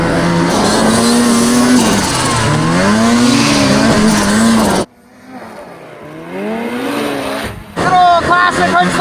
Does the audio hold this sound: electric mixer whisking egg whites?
no